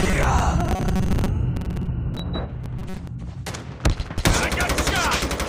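Rapid gunfire bursts and cracks from Call of Duty Mobile gameplay, dense volleys at the start and again near the end with a short lull between, loud and close, with game voices mixed in.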